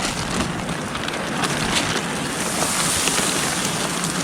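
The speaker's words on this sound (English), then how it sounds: "Actually pretty windy." Steady wind rushing past on a snowmobile camping trip, a broad continuous roar with gusty rumble buffeting the microphone, no voices.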